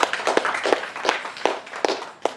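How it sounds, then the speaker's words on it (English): A round of applause at an expo talk: a few loud, close handclaps land in a loose rhythm, crisp separate smacks rather than a dense crowd roar, lasting a couple of seconds. "So give these guys a round of applause"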